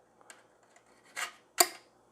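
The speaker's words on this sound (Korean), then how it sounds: "이건 알루미늄이 얇은 거라서 또 강도가 약해서 전지 가위로도 자르니까 잘라지더라고요" Pruning shears snip through a thin, weak aluminum radar reflector panel for a kayak, with two crisp, close metallic cuts following some quiet handling clicks, and no talking.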